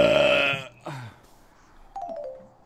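A loud, close, drawn-out burp opens, followed by two shorter, fainter throaty sounds trailing off, with no speech over them.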